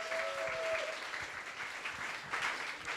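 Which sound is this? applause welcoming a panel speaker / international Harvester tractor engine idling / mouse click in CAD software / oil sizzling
applause welcoming a panel speaker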